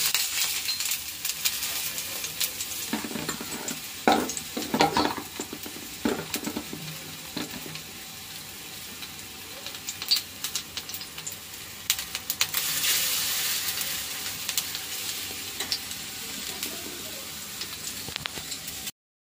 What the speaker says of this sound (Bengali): এখন বড়া করে নেব।